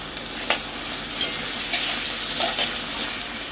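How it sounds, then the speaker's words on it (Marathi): Finely chopped tomatoes sautéing in a pan during cooking, a continuous close sizzle broken by a few soft scrapes and stirring knocks from a spoon, with no talking. "2 टोमॅटो बारीक कापून घेतलेले ते टाकून घेते। टोमॅटो सुद्धा छानपैकी असा नरम करून घ्यायचा।"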